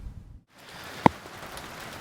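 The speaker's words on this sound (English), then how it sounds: "A big storm has just popped up right on the top of us." Steady rain from a big storm overhead, a dense continuous patter with a brief break near the start and one sharp close tap in the middle.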